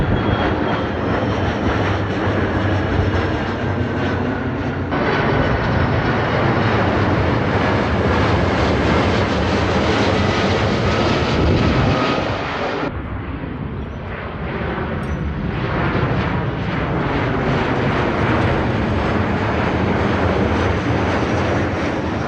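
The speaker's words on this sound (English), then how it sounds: "I've been watching the planes fly overhead" Airplanes passing overhead on a warm day outdoors, a loud continuous jet roar that fills the whole stretch, shifting in tone partway through as one passes, with no voices.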